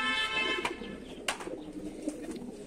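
Racing pigeons of a homing loft cooing, with a father bird calling near its young, amid steady low background noise and a few sharp knocks.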